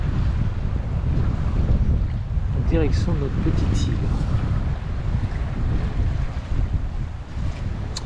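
Steady wind rushing over a sailboat running downwind on a light breeze toward the island of Korčula in hazy weather, a constant broadband roar with water noise beneath, while someone talks briefly over it.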